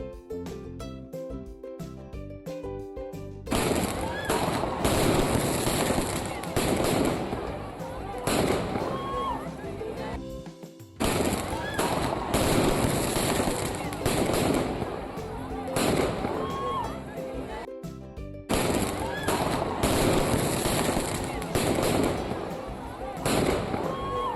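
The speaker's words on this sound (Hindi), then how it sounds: "इतने सारे पटाखे फूटने लगे" Dense, continuous crackling and popping of many firecrackers bursting at once at midnight on New Year's, loud and sustained, with a brief lull partway through and shouting voices beneath.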